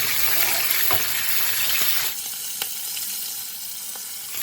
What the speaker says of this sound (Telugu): ఫిష్ కంప్లీట్గా రెడీ అయిపోయింటే 2 సైడ్స్ రోస్ట్ చేస్తాను